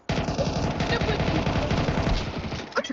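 Sustained automatic gunfire in a video game, a loud, dense rattle of rapid shots filling the whole stretch, with a few final pops near the end.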